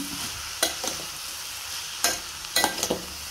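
Sliced ridge gourd and onions are stirred and fried in a pan for a prawn curry. A steady soft sizzle runs under four sharp spatula scrapes, one early, one midway and two close together near the end.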